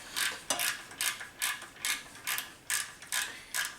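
A hand ratchet working nuts loose from a Honda turbocharger, a steady series of about nine crisp, rasping clicks in even rhythm, close and alone.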